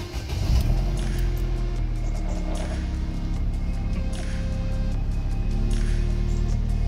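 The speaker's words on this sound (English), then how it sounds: "You know how to start a car." A Vauxhall Zafira B engine running steadily just after an oil change, a close, even idle hum with a slight rev near the start and no talking.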